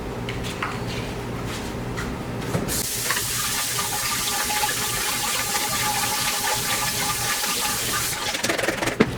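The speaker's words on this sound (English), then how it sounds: "I'm just going to run cold water over them to get some of this starch off." Cold water from a tap runs steadily over food in a colander in a home kitchen, a constant close hissing gush that starts suddenly and continues without talk.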